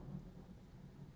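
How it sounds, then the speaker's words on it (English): Thunder from a thunderstorm rolls as a steady low rumble, with a faint rain-like hiss above it and no voices. "The thunder is so loud."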